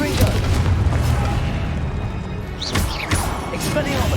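A Confringo spell explodes in Hogwarts Legacy with deep booming crashes and a rumbling, continuous blast texture, with further sharp impacts late on and a voice shouting over the din.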